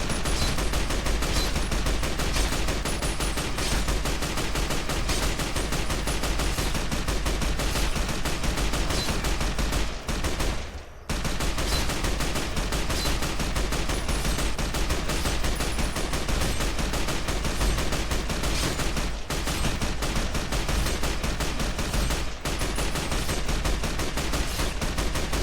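Continuous rapid gunfire with hollow point ammunition in Fallout: New Vegas, dense and loud with barely a break, one short pause near the middle and no talking.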